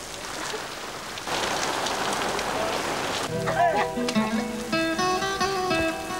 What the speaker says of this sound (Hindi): बारिश बहुत तेज हो गई है